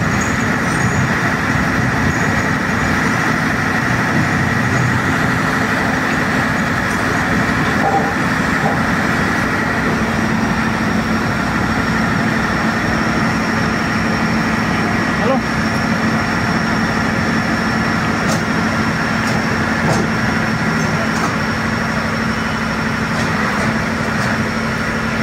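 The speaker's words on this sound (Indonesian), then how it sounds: "nantinya bantalan rel akan diturunkan" A track laying machine lowers concrete sleepers on a high-speed rail construction site, a loud steady engine drone with mechanical hum and occasional clanks throughout.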